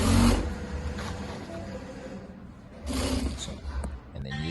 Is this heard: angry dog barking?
no